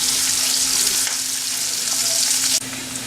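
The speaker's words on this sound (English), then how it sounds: "Now I am going to add this onion into the oil. Saute it nicely until they get a slightly brown color." Chopped onion sizzles steadily in hot oil for an egg puff filling, a dense, loud, continuous frying hiss with a brief clatter near the end and no voices.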